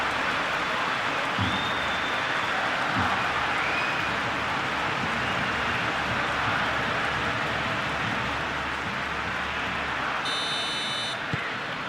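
Crowd applauding and cheering in a simulated El Clasico football match between Barcelona and Real Madrid, a steady broad roar of clapping throughout, with a brief whistle-like tone near the end.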